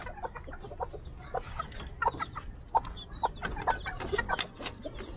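Backyard chickens, including wild-caught red junglefowl, cluck repeatedly in short irregular bursts at close range, with scattered calls over a steady low background hum and no speech.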